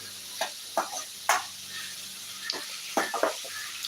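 Stirring and sautéing in a pan while preparing a Kerala-style potato breakfast dish, heard as a few scattered scrapes and light clinks over a quiet background sizzle, with no talking.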